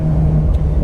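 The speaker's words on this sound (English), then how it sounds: "just listen to the exhaust in this car." A 2020 Porsche 911 Carrera 4S Cabriolet engine rumbles steadily up close, a deep low exhaust drone holding throughout with a faint rising whir.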